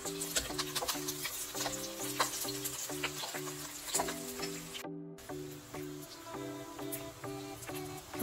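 Chopped onions frying in a pan for shahi paneer, a steady soft sizzle with occasional stirring scrapes, close and continuous, broken by a brief silent gap midway.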